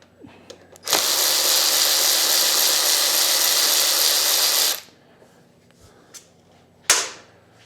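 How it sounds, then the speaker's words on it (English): An electric ratchet spins bolts off the top end of a 1993 Honda XR250L engine: one loud, steady whirring burst lasting several seconds, then a short second burst after a pause. "Because you know I like the electric ratchet quite a bit."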